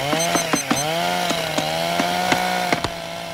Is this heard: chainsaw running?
yes